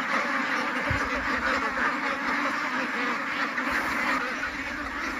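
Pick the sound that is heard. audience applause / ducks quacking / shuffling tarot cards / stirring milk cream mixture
ducks quacking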